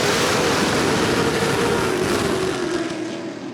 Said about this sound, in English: coming out of turn 4, green flag, and we're racing